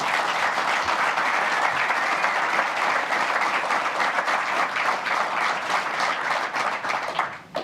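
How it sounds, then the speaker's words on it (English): An audience at a Harvest Day event in Bothaville gives sustained, loud applause for a panel, dense clapping throughout that thins slightly near the end, with no speech. "I think they deserve a round of applause"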